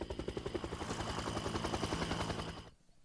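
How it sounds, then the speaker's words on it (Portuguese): A Vietnam-era Huey helicopter comes in to land with a rapid, heavy rotor thump beating loud and close, then the sound cuts off abruptly near the end. "O helicóptero é um Huey, como os que foram usados no Vietnã, e agora pousa no ângulo correto."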